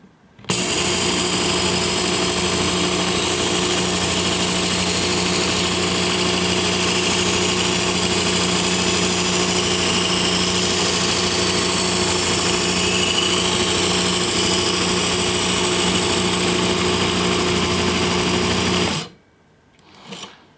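A Work Sharp Ken Onion Edition belt knife sharpener runs at close range with a loud, steady motor whine for nearly twenty seconds, then cuts off abruptly; no one speaks.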